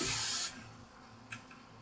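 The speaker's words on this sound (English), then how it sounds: "So just take the hairspray, spray it all along" A half-second hiss of hairspray aerosol misted onto short pixie-cut hair for an updo, close and loud, followed by quieter handling noises.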